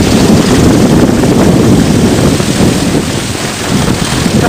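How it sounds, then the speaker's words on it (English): Strong wind at an outdoor wind turbine prop test site, a loud, constant roaring gust battering the microphone with low rumbling buffeting that hardly eases across the stretch. "Got some decent wind here right now."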